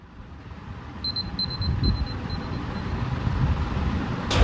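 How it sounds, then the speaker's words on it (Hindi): A phone alarm beeps in short repeated high bursts for a couple of seconds over a steady low room rumble, then stops. "मेरे दिन की शुरुआत होती है मेरे फ़ोन के अलार्म बजने से"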